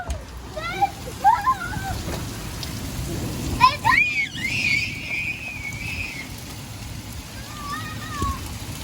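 Heavy rain falls steadily as a constant hiss, with dogs released into it yelping and baying in short bursts over the downpour.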